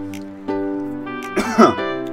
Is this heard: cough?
yes